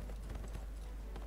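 Horse hooves clip-clop in the video game Neverwinter, a short run of quick, fairly soft hoofbeats over a steady background bed, with no talk.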